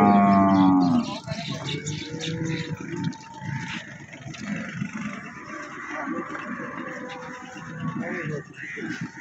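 A cow at a livestock market in Chichawatni gives one loud, close moo right at the start, followed by the busy murmur of people talking nearby for the rest of the clip.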